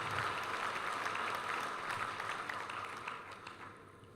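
A crowd at a Ugandan political gathering claps for recognized party leaders, giving a broad, steady wash of applause that gradually fades toward the end.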